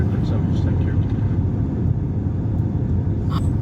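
A passenger airplane landing at Delhi airport, heard from inside the cabin as a steady, loud, low engine rumble filling the clip, with a faint voice underneath.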